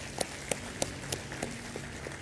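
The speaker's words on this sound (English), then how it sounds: "a huge round of applause to the entire team" Audience applause for a team at an IIM event, a short burst of rhythmic clapping with distinct sharp claps at regular intervals over a soft crowd wash, fairly close and moderately loud.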